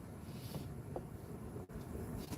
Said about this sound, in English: The wind is picking up again. It's shaking the car.